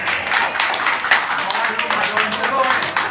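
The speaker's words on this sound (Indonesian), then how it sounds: "tepuk tangan dulu dong buat ibu bapak, keren" An audience at a talk claps in a loose, uneven round, individual claps distinct and moderately close, with a voice speaking over part of it.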